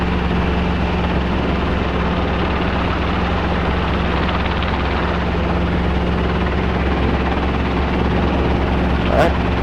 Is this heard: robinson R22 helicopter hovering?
yes